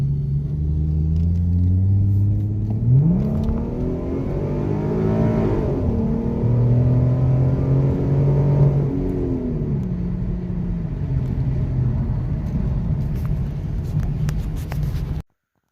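Ford Mustang with a 3.7 V6 and an SCT X4 tune, accelerating through a 1-2 gear shift. A loud, continuous engine drone rises in pitch, drops abruptly at the shift, then climbs again steadily before cutting off.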